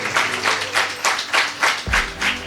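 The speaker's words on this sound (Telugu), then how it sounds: "ఒకసారి చప్పట్లు కొట్టి ప్రభుని స్తుతిద్దాం" A worship congregation claps in unison at a Friday service, about eight strong, evenly spaced claps in a steady rhythm, fairly loud and close, with no speech.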